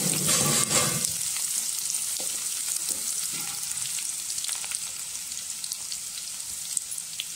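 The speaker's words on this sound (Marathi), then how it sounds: "आता या तेलामध्ये आपण ठेचलेलं लसूण घालून घेऊ। लसूण लालसर चांगलं भाजून घ्यायचं आहे।" Crushed garlic drops into hot oil in a pot with a sharp burst of sizzle, then settles into a steady, fairly quiet frying hiss with small pops and stirring sounds, no voices present.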